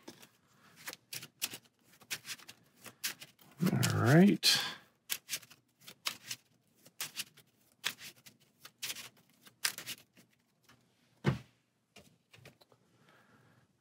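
Playing cards being shuffled for a Marvel Champions game, a series of crisp riffling and tapping bursts spread across the table, close and fairly quiet, with a brief spoken remark and a sigh mixed in.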